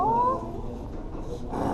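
A playful kitten at a busy convention gives one short, rising meow up close, followed by a muffled background murmur.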